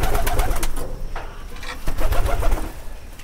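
Sirajee pigeons coo softly amid rustling and fluttering, a close, busy coop with overlapping low murmurs and brief noisy bursts.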